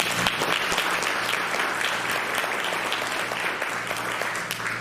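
Audience at a Medicaid event giving a sustained round of applause, a dense, even patter of many hands at moderate distance, continuing without pause for several seconds.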